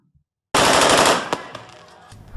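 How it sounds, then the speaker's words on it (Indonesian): Police officers in North Lampung fire their guns into the air, a loud rapid burst of gunshots on shaky amateur footage that blends into a roaring blast before fading into echoing pops and rumble. "Video amatir saat 3 polisi menembakkan senjatanya ke udara"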